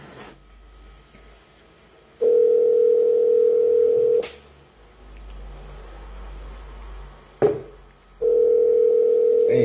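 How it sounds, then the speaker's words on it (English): Telephone ringback tone on an outgoing call: a steady electronic tone sounding in two long bursts separated by a silent gap, with faint background noise and brief clicks between them. "It's ringing."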